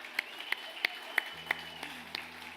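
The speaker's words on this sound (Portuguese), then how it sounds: "aplauda o Senhor Jesus mais uma vez" Church congregation applauding during a worship service, a distant, soft wash of clapping with a few sharper rhythmic claps standing out in an even beat, a low hum entering partway through.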